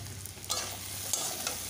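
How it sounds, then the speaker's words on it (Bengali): Bitter gourd and potato pieces fry in a pan in a home kitchen. Quiet, steady sizzling carries a few soft stirring scrapes and light clicks, over a low background hum, with no talking. "উচ্ছে আলু ভাজা করবো।"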